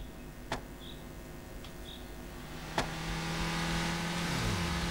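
A car engine in the Roblox video game, a McLaren, gives a couple of sharp clicks, then a steady mechanical hum that swells from midway and ends with a gliding rise in pitch.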